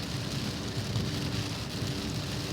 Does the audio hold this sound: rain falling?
yes